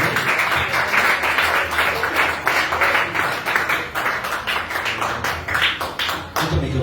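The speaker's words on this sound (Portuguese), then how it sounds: "Vamos estar recebendo o nosso irmão com as palmas." A church congregation claps to welcome a speaker, a dense, sustained round of applause from many hands filling the room at steady loudness for several seconds.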